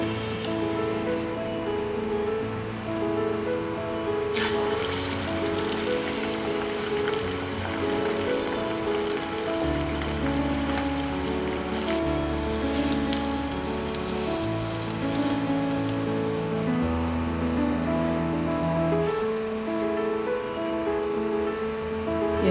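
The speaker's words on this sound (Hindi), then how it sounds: "अब हम इसे छोटे छोटे बॉल्स जैसे फ्राई करेंगे।" Small balls of leftover idli batter (punugulu) frying in hot oil give a steady, dense sizzle like rain on a surface. It runs unbroken the whole time beneath constant background music.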